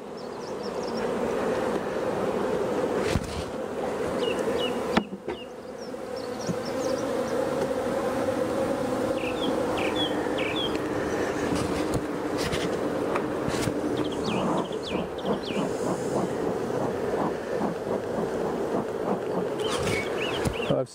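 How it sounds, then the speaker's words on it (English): Honeybees buzzing around a busy hive, a loud, continuous, dense drone close by, with individual bees flying past and brief clicks and handling noises, no talking. "I see those bees coming straight out it, which means it's still very busy on top."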